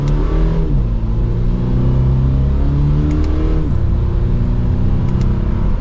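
A 2022 Toyota GR86 Premium accelerates hard from first gear, its engine note climbing steadily, dropping with a shift, then rising again, loud and close with no talk.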